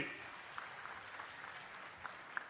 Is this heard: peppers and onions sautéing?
no